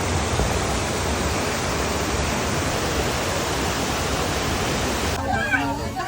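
A waterfall roars loud and close beside a hanging bridge in Dumaguete, a dense steady rush of falling water that holds constant for the whole stretch.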